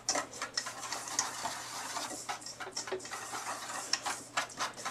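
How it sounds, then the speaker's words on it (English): Flour and brown sugar whisked in a mixing bowl, giving a steady run of quick, light ticking scrapes and taps close by, with no talking. "We're gonna start whisking that together."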